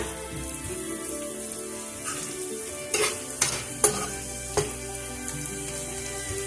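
A spoon scrapes and stirs a teaspoon of cumin in a sizzling frying pan for Indian aloo gobi gajar, with a steady hiss of oil and several sharp knocks against the pan.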